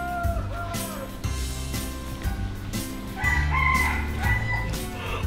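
A rooster crows loudly and close by, with repeated drawn-out calls and some clucking from nearby fowl in a rural setting.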